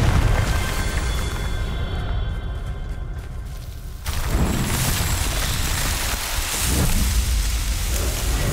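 In Hogwarts Legacy, a Confringo fire spell erupts midway with a sudden loud whoosh, then rolls on as a dense, rain-like crackling rumble with a few smaller bursts.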